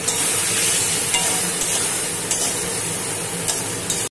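Boiled bottle gourd is dropped into a pan of frying shrimp for Bengali lau chingri and sizzles loudly and steadily, with a broad frying hiss and a few faint stirring clicks.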